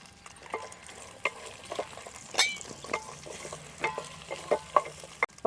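Green chillies, tamarind and garlic fry in oil for a coriander chutney, crackling and popping at close range. Scattered sharp spits and stirring knocks sit over a soft sizzle, with a louder burst near the end.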